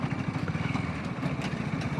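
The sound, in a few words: motorcycle riding on a potholed road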